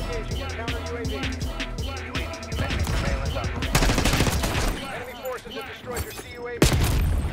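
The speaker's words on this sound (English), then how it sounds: "Sam turret engaging." Rapid bursts of gunfire from a SAM turret engaging in the Black Ops 6 shooter game, dense and loud, with a few heavier booms and other game sounds mixed in throughout.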